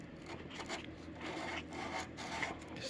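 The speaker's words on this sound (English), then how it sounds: "Seat the block of wood in the groove and just rub back and forth." A block of wood rubbed back and forth on sandpaper seated in a groove, soft rhythmic rasping strokes repeating about every half second, close and quiet with no voices.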